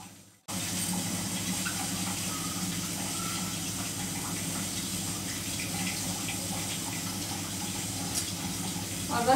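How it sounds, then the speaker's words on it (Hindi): A washing machine fills with water as a steady, close gushing and splashing that begins abruptly after a brief quiet start and continues evenly, with faint household sounds behind. "अब मैं लगा देती हूँ मशीन में पानी की, जो कपड़े धो रखे हैं वो खंगाल दूँ मैं"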